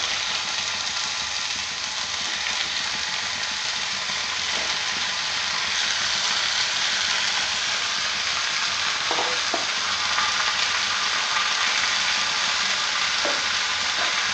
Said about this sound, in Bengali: এরপরে আমি এগুলো দিয়ে দেবো তেলের মধ্যে।